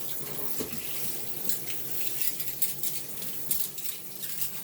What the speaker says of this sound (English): But I'm rinsing my dishes right about now.